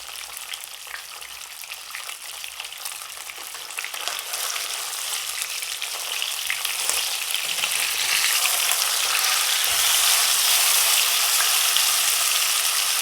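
Fish frying in a pan over a medium flame on a home stove, a dense, steady crackling sizzle that grows slightly louder and fuller over time, close and continuous with no voices.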